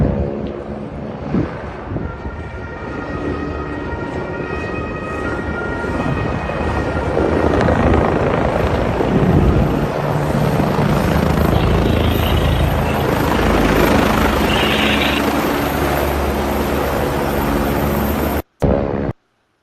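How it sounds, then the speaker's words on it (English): Helicopters landing in Switzerland: a loud, steady rotor thrum and engine whine with wind buffeting, continuous and close, ending abruptly. "All right, Jay, I want to show you in Switzerland how the choppers be landing, bro, because they landing on another level."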